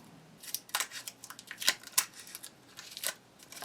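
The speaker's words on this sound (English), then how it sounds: "Now I have to remove the masking tape so I could show you." Masking tape is peeled off the rear sight of an SKS rifle in a series of short, sharp ripping and crackling tugs, close by and fairly quiet, with small gaps between pulls.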